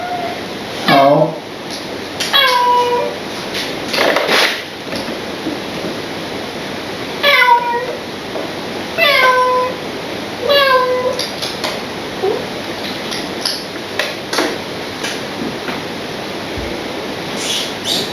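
A cat meows repeatedly, several short rising-and-falling cries spaced a couple of seconds apart over a steady background rush.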